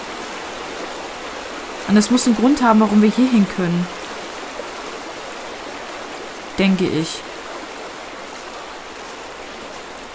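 A flowing river in the video game The Vanishing of Ethan Carter rushes as a constant, even wash of water noise, continuing beneath someone speaking in two short stretches.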